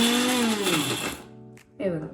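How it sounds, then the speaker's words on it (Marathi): A kitchen mixer grinder whirs through a paste of roasted garlic and chilli, its motor whine sliding down as it slows, stopping briefly and then starting again in a short burst. "आता हे मिक्सरमध्ये बारीक करून घेऊया"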